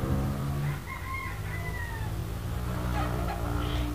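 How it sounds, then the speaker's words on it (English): Chicken sounds from Minecraft as a chicken is killed, with brief tonal clucks and squawks over a steady background of game ambience, no talking. "I accidentally killed the chicken."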